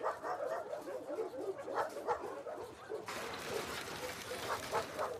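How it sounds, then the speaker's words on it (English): In The Last of Us Part 2, a dog barks and whimpers in quick, excited yips that sit fairly faint under steady game ambience. "I'm not getting a pet dog."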